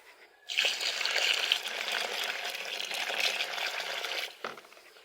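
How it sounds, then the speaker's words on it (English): Water is poured steadily into compost material for a slurry, a continuous splashing rush lasting several seconds at close range, then stopping with a brief final splash. "I'm going to add a little water to this."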